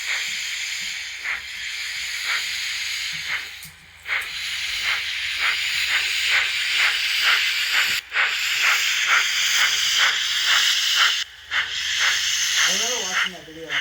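Model train engines run on a three-rail layout, a Via Rail Genesis and a new Selkirk, giving loud, rhythmic steam-like chuffs and hissing bursts that repeat steadily throughout.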